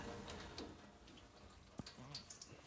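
Water runs steadily through a newly installed Crucial Elements Reign reverse osmosis system opened to full flow, a continuous close hiss with a few small clicks and drips over it.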